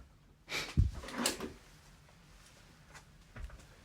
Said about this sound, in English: do you mind shutting the door?